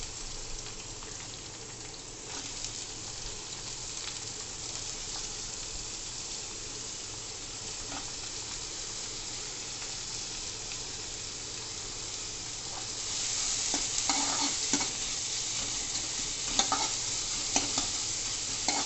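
Onions fry in a pan while a ladle keeps them moving, for baingan bharta. A steady close sizzle carries on throughout, with soft scraping from the stirring that grows slightly louder toward the end.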